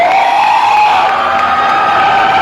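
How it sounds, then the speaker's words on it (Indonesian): A church congregation cheers loudly and continuously, a dense wall of whoops and shouts filling the hall at close range without pause. "Beri tepuk tangan sekali lagi buat Tuhan Yesus. Sorak-sorai bagi Dia"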